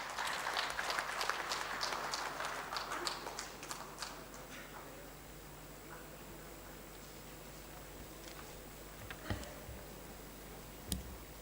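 Faint applause from a conference audience at a university industry-academia session, a burst of clapping in the first few seconds that thins out into scattered, distant claps and room noise.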